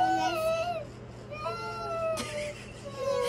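A voice imitates a cat, giving drawn-out meowing sounds, close and fairly soft, with a brief noisy burst partway through.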